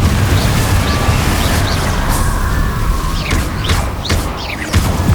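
Confringo blast-curse explosions in the video game Hogwarts Legacy: a steady roar of spell noise broken by several sharp bursts and pops in quick succession near the end.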